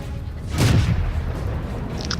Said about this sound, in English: Now I'm putting shots into his turret, trying to penetrate his gun mantle.